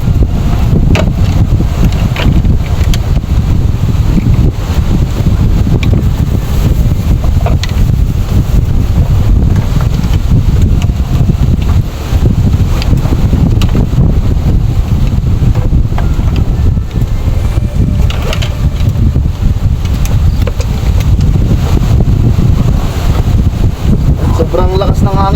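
Strong wind buffeting the microphone outdoors in an open rice field during a pigeon hunt, a loud continuous low roar with gusty rumble throughout.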